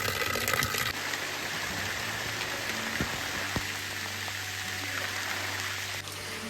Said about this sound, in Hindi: बहुत ही ज़्यादा तगड़ी वाली बारिश लग रही है अभी